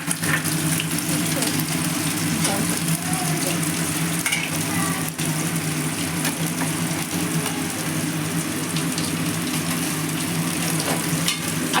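Raw cauliflower pieces frying in a pan give a loud, dense, continuous sizzle that holds steady throughout, with occasional faint clatter.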